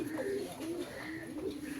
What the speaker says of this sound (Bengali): আমার কবুতরগুলো গোসল করতেছে